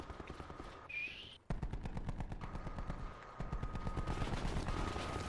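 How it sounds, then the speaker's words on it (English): Rapid automatic gunfire in Call of Duty Black Ops 4 Blackout mode, a dense stream of shots that stops briefly and then resumes, loud and close, running steadily for several seconds. "Oh, damn, they're shooting you up?"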